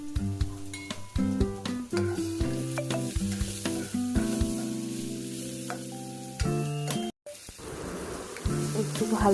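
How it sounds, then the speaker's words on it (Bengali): Diced potato and carrot with turmeric, salt and cumin powder fry in a pan, giving a bright crackling sizzle broken by clattering spatula strokes and brief pauses, close up, with no talk. "একটু ভালোভাবে নাড়াচাড়া করে ভালোভাবে ভাজা ভাজা মতো হয়ে গেলে"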